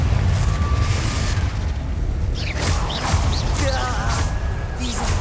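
A Confringo spell erupting during a fight with inferi in Hogwarts Legacy, heard as a series of loud crashing bursts and booms with swishing spell noise and cries layered over a dense, rumbling game soundscape.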